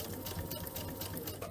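Sewing machine stitching in a circle on a spring pillow project, a brief close burst of rapid, fluttering mechanical chatter.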